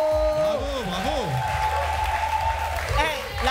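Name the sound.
audience applauding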